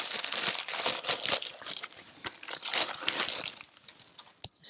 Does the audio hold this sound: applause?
no